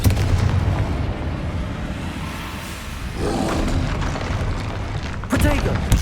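A Confringo spell explosion in the Hogwarts Legacy video game, heavy booming blasts over a dense rumbling battle din, loud and close, with a strong impact around five seconds in and a voice shouting amid the fighting.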